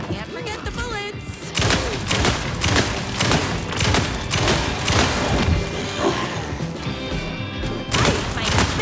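Gunfire rattles through a cutscene of the video game Alan Wake 2 Night Springs, with dense loud bursts of shots and crashing impacts over an underlying score, and a voice speaks early on.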